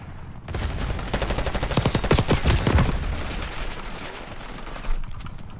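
Heavy automatic gunfire from a Call of Duty: Black Ops 6 firefight, dense overlapping bursts that build into a loud rattling volley, then thin out to scattered shots and a final sharp report.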